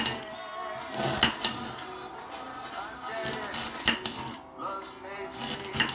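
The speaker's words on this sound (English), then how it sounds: "Let's cut up our onion." A knife dicing an onion on a cutting board, giving a quick uneven series of sharp taps and clicks with short pauses, fairly close and with no talk over it.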